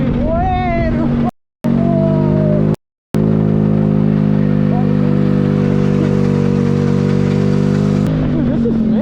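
Homemade car powered by a moped engine, its loud buzzing motor revving and droning close by with rising and falling pitch, briefly cutting out twice before running steadily again.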